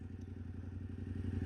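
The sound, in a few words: Yamaha Ténéré 700 motorcycle accelerating from a launch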